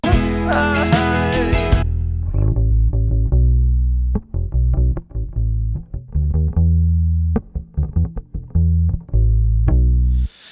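Bass guitar in a song mix, played with no high-end EQ boost, gives a dull, rounded low tone; a bright melodic intro gives way to a run of plucked notes with short gaps, loud and alone.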